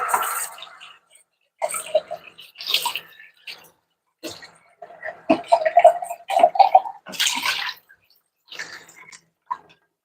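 Water splashing and dripping as a sponged-down body is rinsed off, in short irregular bursts of pouring and trickling separated by brief quiet gaps, close by and alone.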